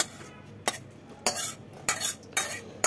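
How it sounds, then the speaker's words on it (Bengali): Boneless chicken handi, a thick dish with little gravy, scraped and poured from a pan into a serving dish, giving a few sharp metallic scrapes and clinks spaced about half a second apart in a quiet kitchen. "এবারে এটাকে আমি একটা পাত্রের মধ্যে ঢেলে নেব।"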